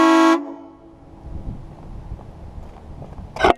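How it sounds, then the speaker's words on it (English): Air horns on a 1971 GMC Suburban, supplied by its onboard air system, let out one loud, sustained blast that cuts off sharply, followed by quieter outdoor rumble and a brief burst of noise at the end. "Oh yeah, the air horns."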